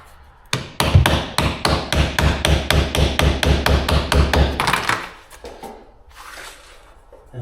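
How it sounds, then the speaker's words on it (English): A hammer taps luxury vinyl plank flooring into place over concrete in a steady, rapid run of about twenty close, sharp blows. Then the hammering stops, leaving faint handling noises. "I would ideally hit it with a hammer"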